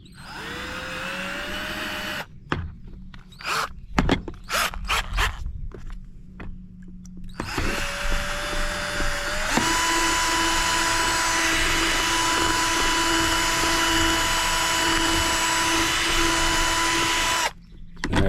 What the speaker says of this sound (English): we're gonna drill the end of it out